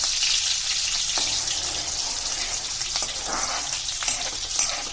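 Green chilies frying in hot oil for a fenugreek leaf (methi) dish, giving a steady close sizzle and crackle with no talk.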